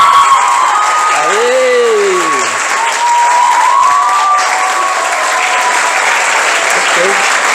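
Audience applause and cheering after a children's karate performance, a steady wash of clapping with whoops and voices over it, and a sliding tonal whistle-like sound partway through.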